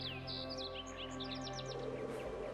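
Bird calls in the video game AER Memories of Old. Several quick, high chirps and twittering notes sound close over a steady droning music bed.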